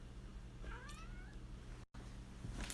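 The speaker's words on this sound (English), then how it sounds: "I got my cat Chester to meow when I say I loved you" A single house cat gives one clear, rising meow, close and fairly quiet over a steady low hum, with no talking.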